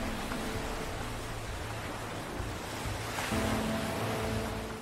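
Ocean surf breaking on a beach where baby turtles head for the sea, a steady loud wash of waves with some wind rumble, continuous throughout.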